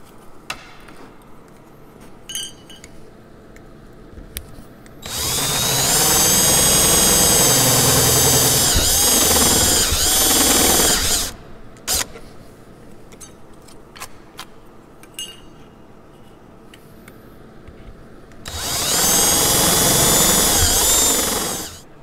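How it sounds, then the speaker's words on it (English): A step drill bit bores holes for brake line fittings on a Zenith Cruzer, heard as two long, loud, whining bursts of power drilling. Quieter clicks and handling noises fill the pauses between them. "So I'm going to use the first 1, 2, 3, 4 step drills"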